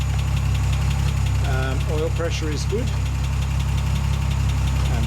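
An Austin Healey 100/6 engine fitted with a new tacho cable idles steadily and close by, a continuous low rumble beneath a voice.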